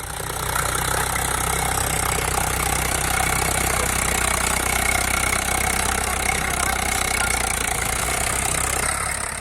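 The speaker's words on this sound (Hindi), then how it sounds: "जहां किसान अपने ही खेत में अपनी ही फसल पर ट्रैक्टर चलाकर उसे बर्बाद कर रहा है।" Tractor driven over a standing crop in a farm field in Samastipur, Bihar: a steady, close, droning engine rumble that runs continuously with no speech.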